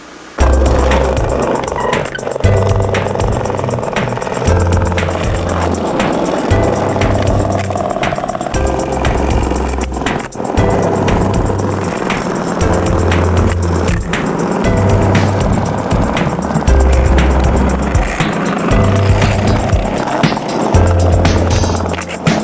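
Street skateboarding in a 1990s–2000s style, with loud, continuous wheel roll over pavement and a steady rhythm of repeated board clacks and rumbles close by.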